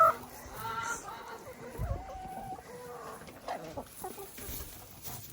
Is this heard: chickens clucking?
yes